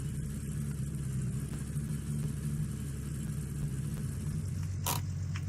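In the mining game Gold Rush: The Game, a vehicle engine idles in a steady low rumble for several seconds, with a short sharp click near the end.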